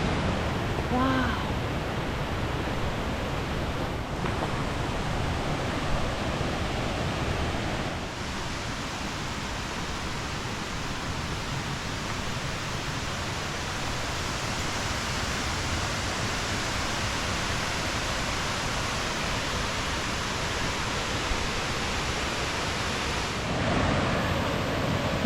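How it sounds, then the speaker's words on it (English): Mae Ya Waterfall in Thailand pouring with a strong flow, a steady broadband rush of falling water that stays constant and fairly loud throughout, with no pauses. "We can hear the waterfall. Sounds like it's flowing really well."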